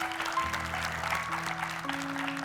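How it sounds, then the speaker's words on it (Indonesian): Studio audience applause on an Indonesian TV talk show, brief and fairly loud, mixed with sustained musical tones from the show's band underneath. "kita berikan tepuk tangan untuk Mama Ella."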